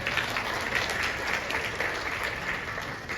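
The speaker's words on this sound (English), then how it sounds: "Y'all give her a round of applause, okay?" An office-talk audience gives a dense, steady wash of applause, many hands clapping together at an even level, moderately loud and sustained, with no voices standing out.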